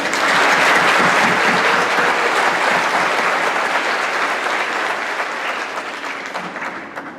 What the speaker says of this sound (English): So hopefully you can applaud her